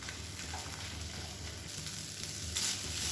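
Grated coconut with onion and tomato stir-fries in a pan, giving a steady, soft sizzle that runs the whole time with a faint scrape near the end.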